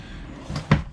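A storage drawer or cabinet in an off-road camper opens or closes with a short wooden knock, a soft slide followed by one near, louder thump, with no talking.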